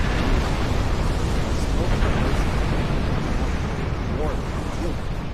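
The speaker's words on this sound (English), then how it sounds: "I couldn't hear you over all those explosions" Continuous roaring battle noise from space combat in Star Trek Online, a dense wash of rumbling explosions and bursts that stays loud throughout with no clear gaps.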